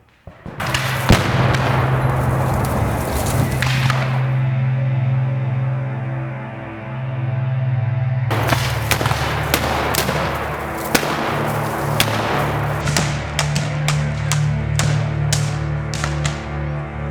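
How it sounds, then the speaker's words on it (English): Cannon fire in a Western film about Nathan Bedford Forrest: repeated heavy booming thuds in bursts, loud and close, with a low sustained drone between blasts and no speech. "Who the hell is firing that cannon at us?"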